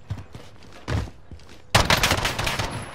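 Rapid gunfire bursts from a Warzone match erupt loud and close around a warehouse, dense overlapping shots following a few scattered earlier pops.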